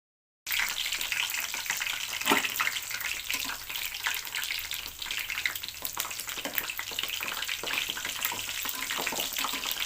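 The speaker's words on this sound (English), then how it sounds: "place the samosas in oil for frying" Oil bubbles and sizzles steadily as Punjabi potato samosas deep fry close by, a dense crackling hiss with occasional louder pops.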